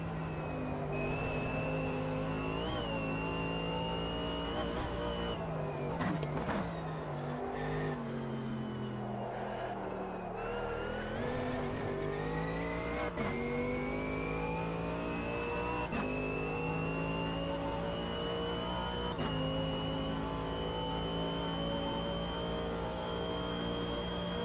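A Mercedes race car engine in the sim racing game Automobilista 2 whines at high, steady revs, with a few quick drops and climbs as gears shift, loud and constant throughout.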